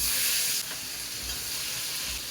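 Thinly sliced onions hit leftover oil from frying catla fish, giving a loud, steady broadband sizzle that eases slightly after the first moment, with faint low bumps beneath.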